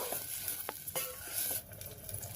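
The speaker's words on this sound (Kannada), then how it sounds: "ರುಬ್ಬಿಟ್ಕೊಂಡಿರೋ ಮಸಾಲೆ ಇದೆಯಲ್ಲ ಅದನ್ನು ಹಾಕ್ಕೊಂಡು ಸ್ವಲ್ಪ ಹೊತ್ತು ಚೆನ್ನಾಗಿ ಫ್ರೈ ಮಾಡೋಣ" Ground masala paste for rasam frying and being stirred in a pan, a steady close sizzle with scraping stir strokes and a few clinks, with no talking.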